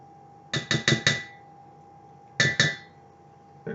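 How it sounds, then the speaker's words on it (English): Buttery spritz cookie dough is scraped and knocked off metal mixer beaters, sharp clinking taps in a quick burst of four, a pause, then two more and a faint last tap, heard alone. "scrape off some of this buttery dough off the beaters"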